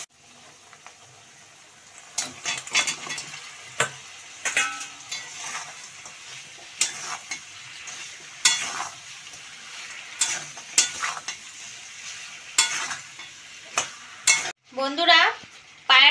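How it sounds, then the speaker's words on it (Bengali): Chicken feet fry with turmeric, chili powder, salt and cumin masala in a pan, a soft sizzle broken by repeated sharp scrapes and clacks of stirring, close by. "মশলাটাকে আমি ভালো কষিয়ে নেব।"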